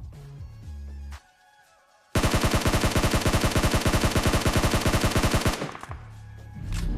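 A long automatic burst from a mobile battle royale game played on a Samsung phone: evenly spaced, rapid shots fire for about three and a half seconds, loud and close, with quieter game ambience before and after.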